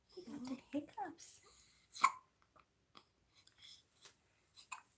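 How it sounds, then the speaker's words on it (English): A six-day-old newborn baby hiccups several times, short soft jerky gulps spaced irregularly, close and quiet, with faint adult talk and rustling around them. "someone got the hiccups."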